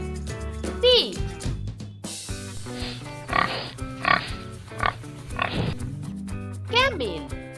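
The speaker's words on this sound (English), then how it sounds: "pig" A pig grunts and oinks several times at a steady pace, fairly loud and close, over light background music.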